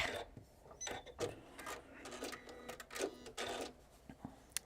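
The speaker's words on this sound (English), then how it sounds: "just use your manual wheel to turn to make sure that you go down in the stitches that you originally did" Sewing machine turned slowly by its manual handwheel to restitch over earlier stitches, giving faint, irregular mechanical clicks and whirs in short bursts with no talk.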